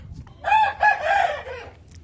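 A Hint rooster crows once, loud and close, a multi-part call lasting about a second and a half, with faint background noise before and after.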